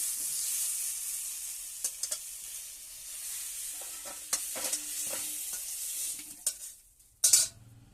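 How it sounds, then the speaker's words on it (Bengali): Chopped mixed vegetables, including potato, pointed gourd, green banana and drumstick, go into a hot pan of oil for a mixed-vegetable and egg dish. The frying hisses steadily throughout with scattered stirring clinks, and a louder splash of sizzle comes near the end. "এবার সবজি কোটা ঢেলে নেওয়া হবে।"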